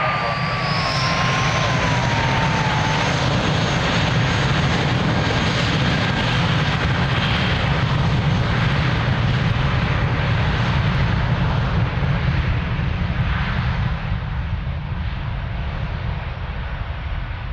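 Jet airliner taking off from runway 02 at Lisbon Airport, a loud sustained roar with a rising whine early on, steady throughout and slowly fading toward the end.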